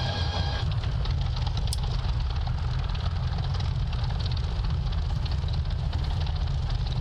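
A P-40 Warhawk fighter's piston engine in Microsoft Flight Simulator 2024 produces a loud, steady, deep rumble that runs unbroken from start to finish, with no voices over it.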